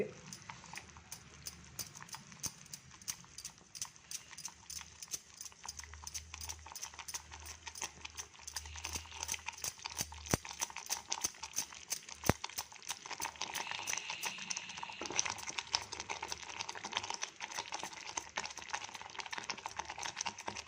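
Ragi mudde, a finger millet dough, is stirred in a pot with a wooden stick, giving a long run of quiet, rapid, uneven tapping and scraping knocks.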